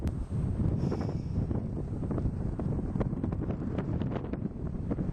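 Strong wind buffets the microphone outdoors at a Fort Collins mustang makeover event, a loud, continuous rumbling roar with gusty surges throughout.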